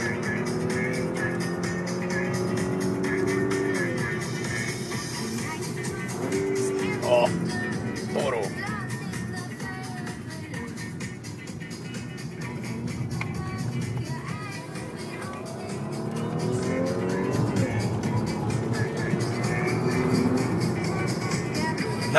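Supercharged 333 hp Audi A6 on the move, the engine rising and falling in pitch through several gear changes, loud and close, with people talking over it at times.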